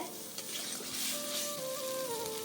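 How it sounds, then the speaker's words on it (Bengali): Masala for chicken roast being stir-fried in oil, a soft steady sizzle with scraping stirs, faint and close, with no talk. "ধীরে ধীরে খুব ভালোভাবে মশলাকে কষিয়ে নিতে হবে"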